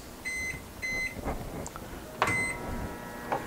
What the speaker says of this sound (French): Naturellement, on va lui donner un petit coup de micro-ondes,